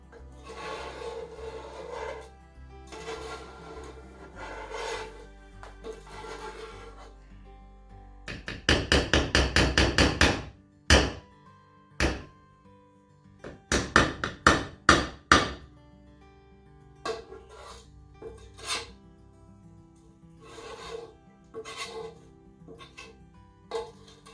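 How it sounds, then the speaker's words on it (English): A spoon scraping and knocking against a pan while mixing Fruity Pebbles cereal treats, with soft rasping strokes giving way to clustered loud rapid scrapes and thunks, then quieter intermittent scraping. "Don't be afraid to scrape the pan."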